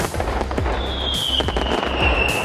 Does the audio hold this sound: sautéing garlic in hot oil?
no